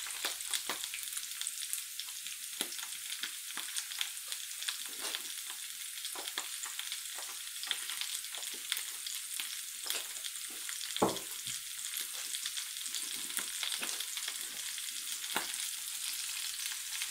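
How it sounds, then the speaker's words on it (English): Steady, crackling sizzle of sausages frying in a hot pan, with occasional louder pops and spits over a continuous hiss. "Putting in the pork sausages now, should be a nice sizzle."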